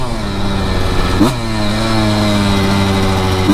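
A Honda CR125 two-stroke motorcycle engine screams loud and close at high revs in fifth gear, a brief dip and shift-like break partway through before the harsh whine climbs steadily again.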